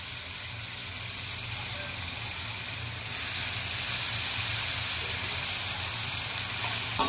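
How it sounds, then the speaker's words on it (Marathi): Onion and tomato frying in a pan for a Goan dry curry, giving a steady close hiss and sizzle that grows a notch louder partway through, then continues evenly with no one talking. "त्याला एकदम ब्राऊन होईपर्यंत फ्राय करून घेऊया। कांदा जरा नरम होत आला की त्याच्यात आपण टोमॅटो घालणार आहोत।"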